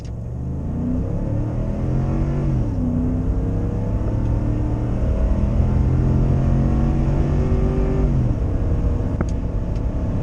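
A Ford 5.0 Coyote V8 truck engine with a K&N cold air intake roars loudly at full throttle and climbs in pitch as it revs hard, dips briefly at a gear change, then winds up again before easing off.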